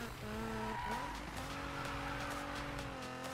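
A Nissan GT-R drifts in Need for Speed 2015, its engine note rising and shifting beneath a sustained tire squeal that bends in pitch through the slide, close and continuous, with no talking.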